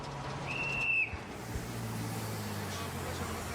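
A single sharp, high blast of a police officer's whistle lasts about half a second over a low, steady engine rumble of passing traffic and trucks in Burundi.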